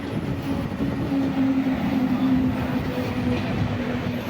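A passenger train on a short Kerala rail trip rumbles steadily from inside the carriage, a continuous low drone with a faint sustained hum and no clear pauses throughout.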